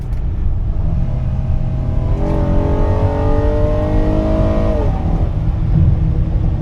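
Honda Odyssey minivan with a VTEC engine revving hard, its pitch climbing steadily over a constant loud engine and road roar before dropping off sharply, recorded from inside the vehicle without talk.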